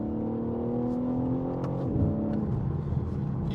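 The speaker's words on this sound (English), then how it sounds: "you get this thrum on the upshifts, and you get a lovely yowl from the inline six up front." A BMW M3 Touring's inline-six engine and exhaust rev hard in Sport Plus mode, giving a loud, close, steady harmonic drone whose pitch drops and resettles partway through, like a thrumming upshift, with no talk over it.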